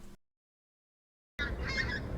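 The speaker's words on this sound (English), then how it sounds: "Here's a big skein of white-fronted geese." Skein of white-fronted geese in Norfolk, a sudden burst of overlapping honking calls after a moment of silence, moderately loud and sustained to the end.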